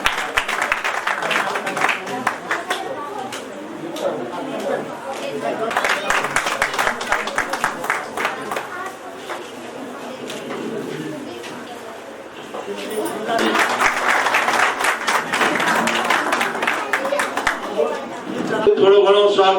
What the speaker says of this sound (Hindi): सभी जोरदार तालियों जाकर स्वागत करना।